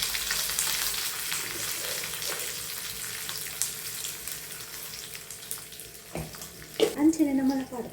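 Cumin seeds and spices frying in hot oil give a soft, steady sizzle at close range, with a brief stir or clatter near the end.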